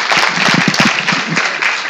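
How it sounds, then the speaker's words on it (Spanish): An audience at a university law course on Argentina's civil and commercial code applauds to welcome a doctor. The dense, loud clapping is continuous and nearly alone, with a few murmurs underneath. "les voy a pedir un aplauso para el doctor"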